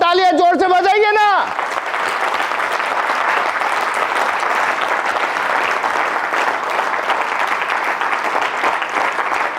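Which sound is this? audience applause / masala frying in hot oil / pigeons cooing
audience applause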